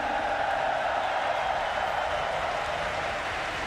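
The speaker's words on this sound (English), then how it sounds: "This crowd is amazing." A live arena audience at the Apex Legends ALGS Championship finals keeps up a steady, dense roar of cheering and crowd noise, loud and unbroken throughout.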